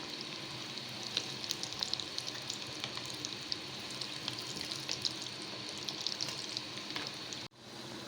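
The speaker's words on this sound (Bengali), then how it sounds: "অল্প আছে হালকা বাদামি কালার করে আমি ভেজে দিব" Layered singara deep-frying in plenty of hot oil, giving a steady, close sizzle with scattered pops for about seven seconds before it cuts off abruptly.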